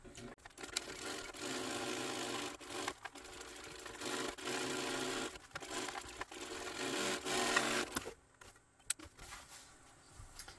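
A sewing machine stitches a row around the edge of a fabric crossbody bag in steady, continuous bursts that pause briefly several times, close and fairly loud, with a quieter stretch near the end.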